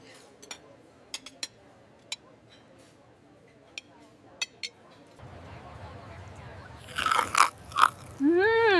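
Crunchy fruit being bitten and chewed, a series of sharp, separate crisp crunches close to the ear, followed by louder rustling and a brief voice.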